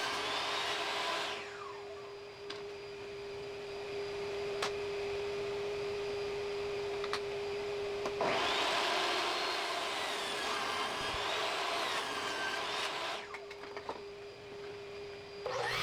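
A power saw ripping a wood glue-up made from 2x4s to 6 inches wide: a steady, loud whining drone with a constant tone runs throughout, swelling as the blade bites into the wood mid-cut, then easing off near the end.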